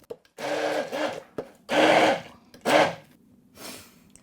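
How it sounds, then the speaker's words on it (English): A blender blitzes curry paste with ground dried spices in several bursts, loud whirring pulses separated by short pauses and a softer final spin. "You can certainly use a blender and then just add a little bit of liquid of water or coconut milk to it."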